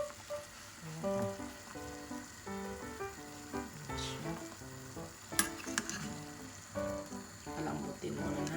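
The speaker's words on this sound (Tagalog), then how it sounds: "So, kumukulo na yung nilaga natin beef." A pot of Filipino beef stew (nilagang baka) bubbles and simmers steadily, with soft popping and gurgling, and a spoon or utensil clinks faintly now and then.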